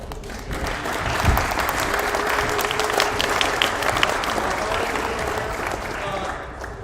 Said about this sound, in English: let's hear a round of applause for all the parents that helped us this